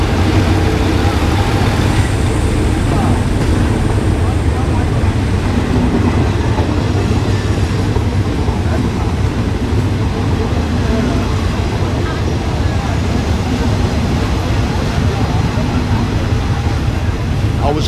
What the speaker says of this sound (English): Here comes the first train, the morning train, to go across the River Kwai